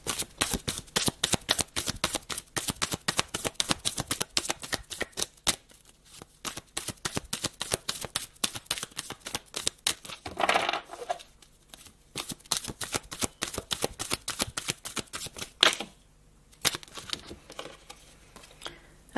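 Tarot cards being shuffled and drawn, a long run of rapid crisp riffling flutters with brief pauses and a few louder slaps as cards are laid down, close and alone with no talk.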